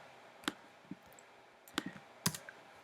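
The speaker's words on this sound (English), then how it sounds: "just by clicking on it and dragging it in" A computer mouse gives a few sharp, close clicks spread irregularly in a quiet room, some in quick pairs.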